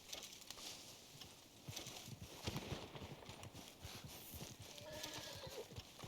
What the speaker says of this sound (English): Alright, come here, horse.